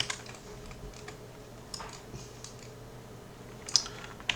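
Keystrokes on a computer keyboard while entering text, a quiet run of soft clicks with a few sharper taps, close and alone.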